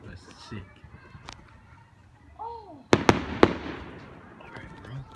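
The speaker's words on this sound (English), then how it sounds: "I'm gonna sit back and watch the fireworks." Several sharp firework bangs burst in quick succession after a quieter stretch, with people talking and a whistling tone nearby.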